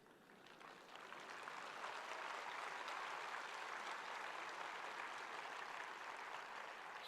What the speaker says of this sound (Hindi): सुनने वाले को ताली बजाने में देर लगेगी लगेगी।